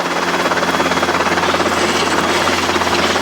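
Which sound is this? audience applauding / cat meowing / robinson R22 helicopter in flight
robinson R22 helicopter in flight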